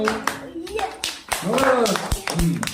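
Children clap together in a classroom reading activity, several sharp bursts of hand claps scattered through the clip, mixed with kids' voices and an adult talking over them.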